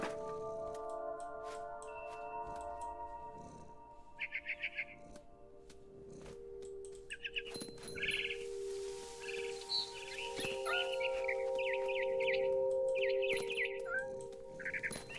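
Video game bird in What Remains of Edith Finch chirping in short bright bursts, several clusters of tweets over a steady ambient hum, moderately close.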